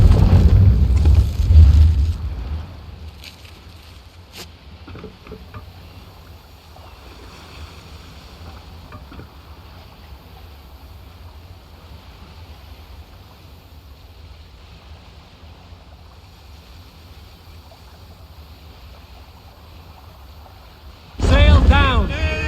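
A Viking longship sails the open sea in Assassin's Creed Valhalla. Waves and wind surge loudly at the start and again at the end, with a steady, softer wash of water in between.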